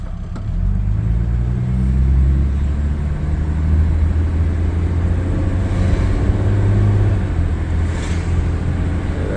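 A 1958 Plymouth Plaza with its little six-cylinder engine drives along, with a steady low rumble and a smooth engine drone that holds near and fairly loud throughout.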